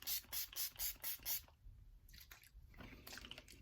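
A spray bottle being used during a makeup routine: six quick, even hissing bursts in a steady rhythm, then quieter handling sounds and softer sprays, heard close with no talking.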